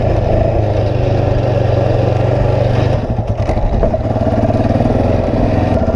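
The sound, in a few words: Yamaha Raptor 700 ATV engine revving while doing wheelies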